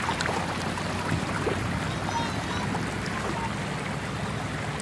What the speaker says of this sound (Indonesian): Airnya, liatin. Deras banget.